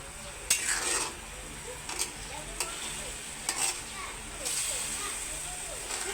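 Food being stirred while it fries in a pan, with a steady sizzle and intermittent scrapes and clinks of the utensil against the pan, fairly close. A voice speaks briefly over the cooking.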